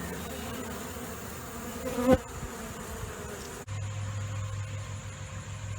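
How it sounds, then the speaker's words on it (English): Many honey bees hum around a hive in a continuous, close buzzing drone, with a brief louder thump partway through and a steady mechanical hum joining near the end. "You can see there's still lots of bees over here."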